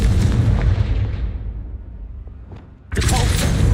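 A Confringo fire spell explosion in Hogwarts Legacy: a loud, dense blast that decays over a couple of seconds into a quiet rumble, then a second heavy burst of roaring noise erupts and holds.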